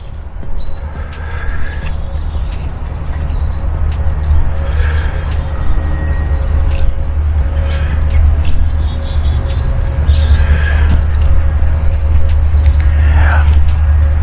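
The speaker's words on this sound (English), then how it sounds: "You can hear the birds chirping out here." Scattered bird chirps ring out in the open air of a cemetery over a steady low rumble of wind and distant traffic.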